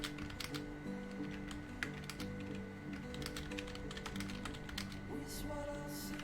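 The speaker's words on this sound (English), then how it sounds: "A lot of sound effects of me typing" Steady computer keyboard typing at close range, rapid irregular key clicks running throughout over a faint background hum, with no voices.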